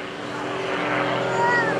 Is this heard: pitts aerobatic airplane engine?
yes